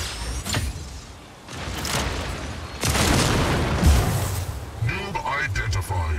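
Booming weapon fire and explosions from a Slingshot robot in the mech combat game Mech Arena roll through continuously, with bursts layered over game music and effects, loud and dense throughout.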